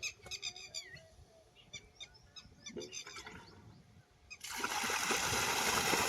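Squawking bird calls sound faintly first, then water from the 4-inch outlet of a 7.5 HP solar pump bursts out into a loud, steady, continuous gush for the final seconds.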